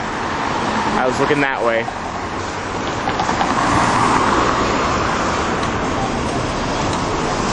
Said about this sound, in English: Oh, I almost got hit by a car again.